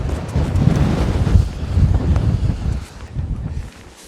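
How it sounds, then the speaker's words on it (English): Wind gusting across open English countryside, a loud, steady rumbling roar on the microphone that eases slightly near the end. "The wind is picking up."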